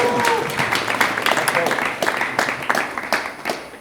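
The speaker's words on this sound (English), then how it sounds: "You can clap for that, yeah." An audience at a keynote address breaks into applause, a dense crackling wash of claps that fills the moment with a voice audible along with it.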